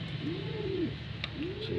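Pigeons cooing inside a coop: two soft, rolling coos rise over a constant background hiss, with no voices.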